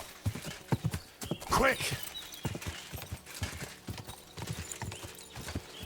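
Horse hooves gallop at a quick, steady clip-clop in Kingdom Come Deliverance II, with a short whinny partway through. Someone shouts briefly over the running hoofbeats.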